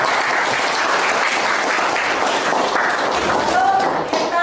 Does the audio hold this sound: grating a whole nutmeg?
no